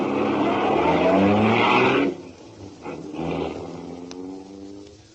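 A car engine revs loudly and pulls away in a radio drama sound effect, then drops off abruptly into a fainter engine note as the car recedes.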